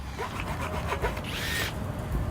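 A power drill whirs in short bursts, fairly faint, with a louder high-pitched spin toward the end.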